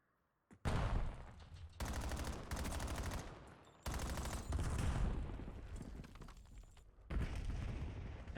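Video game match gunfire breaks out in sustained automatic bursts, loud and close, with brief pauses between volleys and a sharp final burst.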